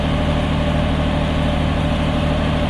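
A John Deere 7520 tractor engine runs at about 1800 RPM while it drives a water pump, a loud, close, steady low drone with an even mechanical hum and no voices.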